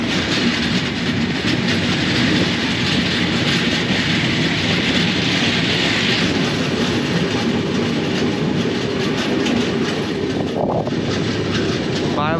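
Avadh Assam Express passenger train in motion, a loud continuous roar of wheels and rushing air with steady clickety-clack over the rails, heard close from on board throughout.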